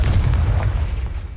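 A Confringo explosion spell going off in the Hogwarts Legacy video game, a loud sustained low rumbling blast with deep booming weight and crackling bursts, heard alone with no talking.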